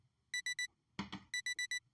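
A fire alarm beeps in short, evenly spaced bursts of three and then four, loud and clear, with a brief burst of speech in between.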